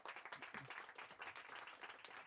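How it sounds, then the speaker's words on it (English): Audience at a book talk gives a brief, faint round of steady applause, many hands clapping together without voices over it. "Can we get one more round of applause for Larissa"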